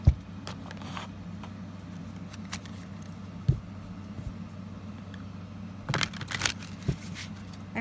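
Tarot cards being shuffled by hand at close range, with soft riffling bursts at the start and a denser run of brisk shuffling near the end over a low steady room hum.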